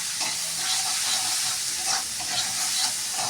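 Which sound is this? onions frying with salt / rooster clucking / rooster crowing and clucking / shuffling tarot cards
onions frying with salt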